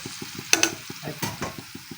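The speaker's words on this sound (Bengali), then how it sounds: "এইভাবে নাড়াচাড়া করতে হবে" Spoon stirring fish biryani ingredients in a pan, a few scraping strokes and clinks over a quiet sizzle, with soft rhythmic low thumps underneath, close and brief.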